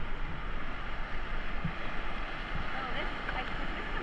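River rapids churn loudly and without a break around a raft on Cache Creek, a dense, steady roar of rushing water close by.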